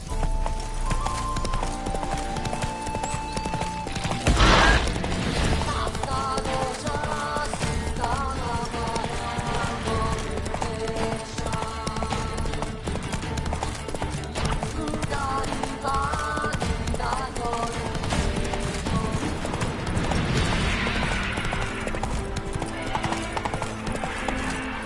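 Roach, the horse in The Witcher 3, gallops with steady, rapid clip-clop hoofbeats over continuous game music, and a brief whinny rises around the middle.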